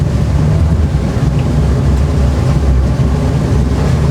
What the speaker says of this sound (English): choppy water, pretty windy today